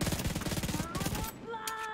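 Rapid automatic gunfire from The Division 2 video game hammers out in a fast, loud burst for about a second, then stops, leaving fainter sounds behind.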